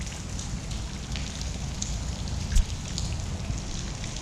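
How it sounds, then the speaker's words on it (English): Steady rain patters on surfaces around an outdoor fishing spot, a soft even hiss with occasional louder drops and a faint bump, no talking. "And it is raining."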